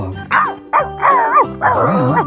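A toy dog gives four short, loud barks in quick succession, close up and with nothing else around them.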